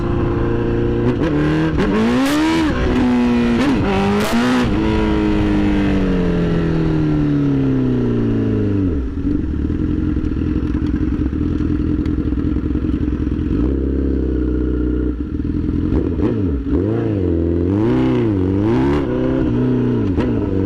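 A Honda CBR 1000RR superbike with its exhaust broken off on the road, loud raw engine blasts rising and falling through repeated revs and gear changes, close and continuous, no talking.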